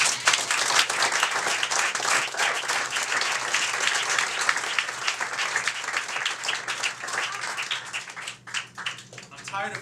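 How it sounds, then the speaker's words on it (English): An audience gives storytellers a round of applause, with dense, loud clapping across the whole stretch that slowly thins toward the end, with a few voices in the crowd. "So I want to give them a round of applause."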